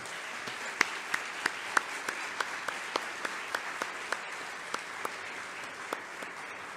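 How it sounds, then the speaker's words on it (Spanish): An audience at an academic event gives welcoming applause for a speaker, a soft wash of many hands with sharper individual claps standing out in a loose, fading rhythm. "Recibamos con un aplauso"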